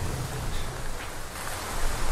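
Steady rain in the open world of Zelda: Breath of the Wild, a soft continuous hiss of falling drops with a low rumbling undertone, moderately quiet and unbroken throughout.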